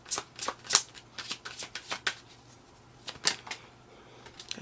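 Tarot cards being shuffled in a quiet room, a run of crisp riffling bursts and soft slaps spaced irregularly over a few seconds, close and fairly faint with no talking.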